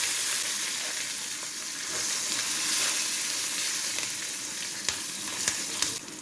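Cumin seeds and green chillies sizzle in hot oil for a mint chutney, a steady close hiss of frying lasting several seconds with a few faint clicks and pops near the end.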